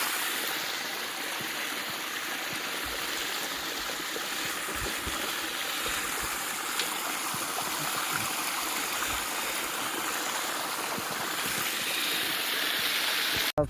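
Irrigation water runs steadily through a channel in a village farm field, a continuous close rushing flow that holds even and unbroken throughout, with no voices over it.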